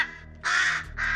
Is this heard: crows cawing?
yes